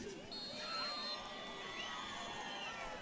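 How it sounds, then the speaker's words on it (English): A high school football crowd at a Father Ryan versus Knox Catholic game cheers and shouts after a score, a steady roar of many voices with scattered whistles and yells carrying across the stands. "About to hear a crowd pop."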